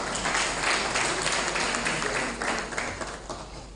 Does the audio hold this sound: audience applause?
yes